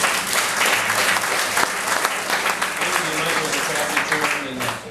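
An audience at a Class of 1977 reunion breaks into loud, sustained applause, dense clapping from many hands filling the room for several seconds before starting to taper at the end.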